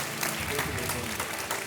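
A Kaun Banega Crorepati studio audience breaks into a brief, dense burst of applause, even and continuous for its short length.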